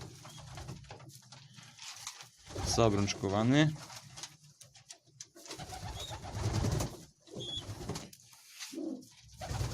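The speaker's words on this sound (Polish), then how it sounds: "tutaj dzisiaj pokazuję wszystkie gołębie, które się wykuły w ostatnim czasie" Pigeons, racing and ornamental birds, coo in soft, rolling bursts close by, mixed with someone talking intermittently over them.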